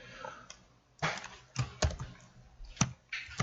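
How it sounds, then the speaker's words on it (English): Keystrokes typing a cell reference into a spreadsheet on a computer keyboard, a handful of sharp, close clicks in quick irregular bursts over a quiet room. "I don't have to click the cell. I can type it in as well."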